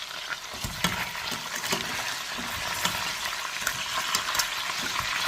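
Crab pieces stirred into a gombo (okra) sauce, with a steady bright sizzle and frying crackle plus scraping stirring strokes throughout, fairly close and alone without talk.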